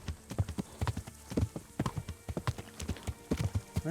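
Horse hooves in Kingdom Come: Deliverance pound in a fast, steady galloping rhythm, close and clear, with nobody speaking over them.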